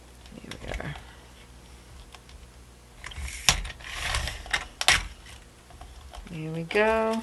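Cured liquid polymer clay cut with a rotary cutter or scissors, giving scattered close clicks and crunchy scraping snips that turn denser midway, while a person talks in between.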